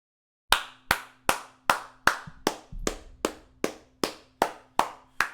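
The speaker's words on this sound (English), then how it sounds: "Round of applause, Luke." A single person claps hands in a steady, even rhythm, about a dozen sharp, close claps alone with a faint tone humming underneath.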